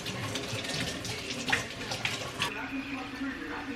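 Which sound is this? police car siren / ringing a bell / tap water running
tap water running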